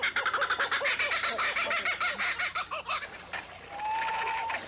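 A kookaburra's call rolls out in a rapid series of loud, rhythmic cackling hoots that build and then break off, leaving a fainter whistling bird call near the end, with no voices.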